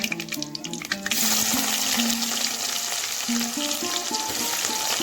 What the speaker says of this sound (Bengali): দিয়ে ভালো করে মশলাটা ভেজে দিয়ে দেব পেঁয়াজ কুচি